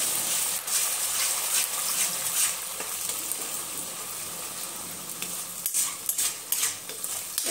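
Ground drumstick masala roasting in oil in a pan for a Marathi shevga curry, giving a steady close sizzle with stirring scrapes throughout.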